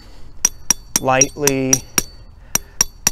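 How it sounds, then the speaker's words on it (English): A hammer drives a yard sign stake into hard, rocky ground with about ten sharp, close metallic taps at an uneven, steady rhythm; someone speaks briefly between strikes. "And so I put my hand in the middle, hammer lightly, lightly,"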